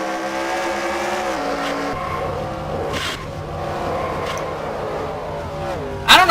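Onboard a dirt track race car at Kentucky, the engine drones loud and close throughout, pitch shifting as the driver works the throttle, with a sudden louder burst near the end.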